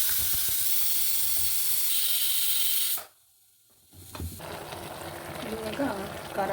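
A kitchen mixer grinder whirs loudly and steadily as it blends onion, garlic, mint, coriander, curry leaves and coriander powder, then cuts off abruptly into near silence, followed by quieter handling noises and talk.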